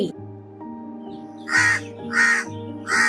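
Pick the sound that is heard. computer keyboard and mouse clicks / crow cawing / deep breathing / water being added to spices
crow cawing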